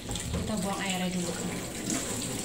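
Water from freshly boiled papaya leaves poured off and draining into a sink, a steady rushing splash that runs throughout, with faint talk beneath.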